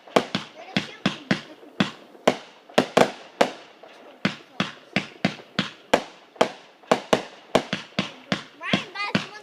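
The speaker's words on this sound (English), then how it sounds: "Who's shooting the fireworks?" Memorial Day fireworks going off in a rapid string of sharp, loud bangs and crackles, some twenty bursts in under ten seconds, with children's voices faintly underneath.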